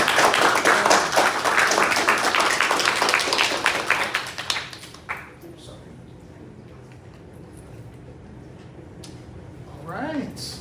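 A crowd applauds the student presentations at a Kupu Corps Ho'ike event at the University of Guam, with dense, loud clapping for about four seconds before it fades into a quiet room with faint scattered sounds.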